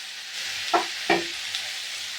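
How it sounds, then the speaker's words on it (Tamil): Sliced radish sautés in a pan, a steady low sizzle broken by two distinct scraping stirs of a spatula close by, with no one speaking. "அதையும் போட்டு நல்லா வதக்கி கொடுத்துக்கலாங்க."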